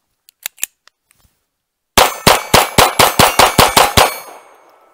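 Rapid shots from a Grand Power K22 X-Trim pistol firing Winchester Super Suppressed .22 ammo at a range: about eight sharp, evenly spaced cracks with ringing tails, loud and close, after a few faint clicks and handling noises.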